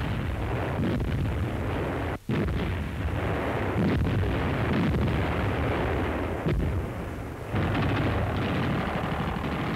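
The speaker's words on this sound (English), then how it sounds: "Heaviest artillery blasts the enemy line in preparation for the attack." Heavy WWII artillery bombarding enemy lines, a continuous dense roar of booming blasts and rumbling detonations, loud and close, with only a momentary dropout partway through.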